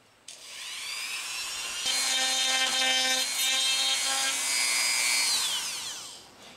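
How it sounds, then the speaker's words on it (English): A small Dremel rotary tool whines up to a high steady pitch, then grinds against material with a buzzing, rasping tone before spinning down. "It runs this Dremel tool just great."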